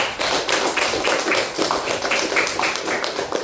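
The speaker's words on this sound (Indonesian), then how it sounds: "Tepuk tangan untuk kita semua." A small group clapping hands together at an indoor gathering, steady dense claps for a few seconds.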